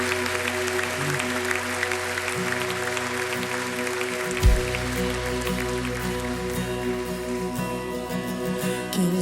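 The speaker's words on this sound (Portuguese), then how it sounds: "Você pode aplaudir esse Senhor maravilhoso." A church congregation at a Portuguese-language evening service applauds, a continuous patter of clapping that blends with sustained music and keyboard tones throughout, with a brief low thump partway through.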